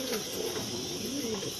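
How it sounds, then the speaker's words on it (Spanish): Young female pigeons coo softly in repeated, wavering low calls against a steady background hiss. No one speaks over the calls. "Como hay algunas pichonas nuevas ahí que las estoy viendo,"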